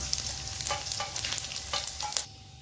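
Pieces of flour dough frying in hot oil, a steady close sizzle with a few brief louder crackles and stirring bursts, no talking.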